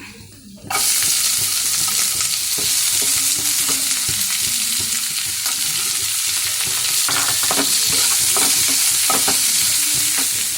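Onions hit hot oil in a pan while making potato masala bonda, setting off a loud sudden sizzle that stays steady, with scraping stirs running through it.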